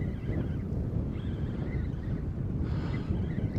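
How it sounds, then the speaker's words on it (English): Wind buffets a fishing boat at sea off Wales, making a constant low roar and rumble across the microphone with a faint background hiss and no speech. "the wind's constantly changing"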